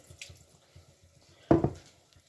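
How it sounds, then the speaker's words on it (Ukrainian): Water drips and trickles from soft sauerkraut squeezed by hand in a kitchen, with faint repeated droplets and then a brief louder splash of liquid, all fairly quiet and close. "У мене достатньо м'яка капуста, тому я просто її добре відтискаю"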